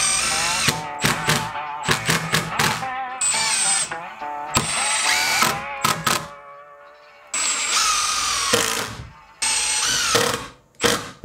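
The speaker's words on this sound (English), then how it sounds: "I'm going to screw 2 3-inch screws on the inside of each panel through each mortise and tenon" A power drill drives 3-inch screws through mortise-and-tenon joints into firewood shed panels, whirring in short repeated bursts with brief pauses and ratcheting clutch clicks between them, close and loud.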